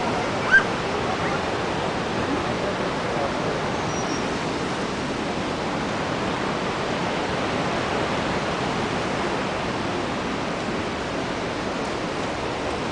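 A broad, steady roar of heavily falling water at Niagara Falls fills the air without pause, loud and constant like a huge waterfall nearby.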